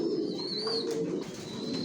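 Racing pigeons, including a grizzle breeding pair sitting on eggs, coo softly inside a loft, a low continuous warble close by with faint higher chirps over a steady background hum.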